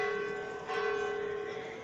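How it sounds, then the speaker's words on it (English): Church bells ringing across a town plaza in Jardín, Colombia, a sustained, steady tolling tone heard from a distance over faint street ambience. "the bells chiming"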